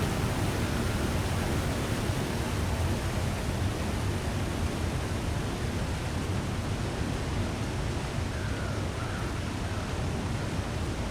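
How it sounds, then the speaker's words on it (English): A waterfall in the video game The Long Dark gives a steady, unbroken rushing roar, like wind, heard at a moderate distance and fairly soft, constant for the whole stretch with no talking over it. "And then you realize it's a waterfall."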